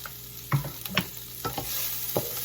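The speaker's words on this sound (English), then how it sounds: "I'm gonna add a little bit of oil again." Oil sizzles in a pan as chilli ingredients fry, with a steady hiss broken by a few brief scraping stirs. The sound stays close, with no voices.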